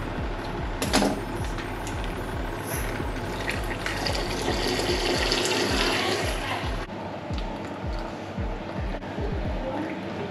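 Milk being poured into strong tea at a rolling boil, on a rainy evening: a steady, close liquid pour with a bubbling hiss over a broad noisy background, with faint voices at times.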